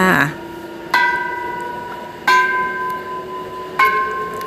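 A temple bell rings three times at slow, uneven intervals, each strike leaving a long, clear ringing tone that fades between hits.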